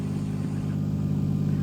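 A Toyota drift car engine runs at a steady idle close by, a low throbbing rumble with a slight rhythmic pulse and no talk.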